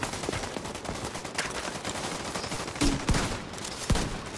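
Automatic gunfire in The Division 2: rapid, loud bursts of shots crackle continuously, with a few sharper individual reports standing out near the end, and no talking.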